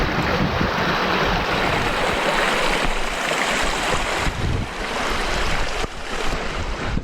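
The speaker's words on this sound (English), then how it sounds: "Here's the waterfall." Waterfall seen across East Marat Lake on a High Uintas backpacking hike, a loud steady broadband rush with gusty wind buffeting the microphone, no voices.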